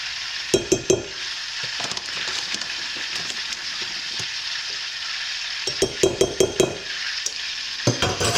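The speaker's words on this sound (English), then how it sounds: "Whisk it together." A whisk works almond flour into cake batter in a bowl, giving a continuous close swishing rustle punctuated by sharp clicks of the wires against the bowl.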